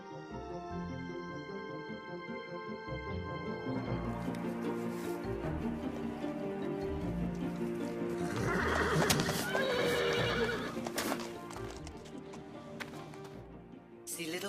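A horse neighs and whinnies over steady clip-clopping hooves, set against an orchestral film score in a historical drama about Alexander the Great, the hoofbeats and calls fairly close and clear.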